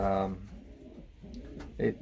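Racing pigeons in a breeding loft give soft, low coos in short bursts at the start and end, close by, with quieter rustling between.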